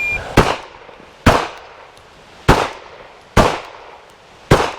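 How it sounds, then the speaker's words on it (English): Five sharp pistol shots ring out at steel targets on a range, evenly spaced roughly a second apart, each loud and close with a short decaying tail and no talk in between. "So it's 7 shots, 6 seconds, including 6 target transitions."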